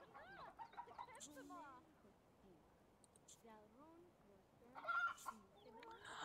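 A rooster clucks in The Sims Medieval, several short rising calls scattered through the clip, fairly quiet against a busy game background while a person talks over it.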